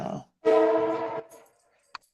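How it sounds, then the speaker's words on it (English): A train horn sounds one sustained, harmonic blast of under a second, fairly loud and clear, just after a short bit of speech, then fades into quiet. "there's the train."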